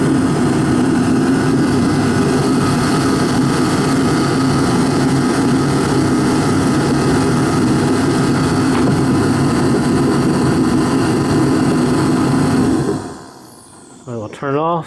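A Procom 110VT kerosene turbo heater runs with a steady loud roaring drone like a jet, then cuts off near the end and briefly restarts, with voices talking over it.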